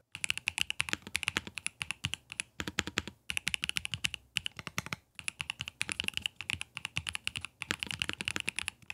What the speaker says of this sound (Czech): má to i velmi příjemný zvuk, pokud píšete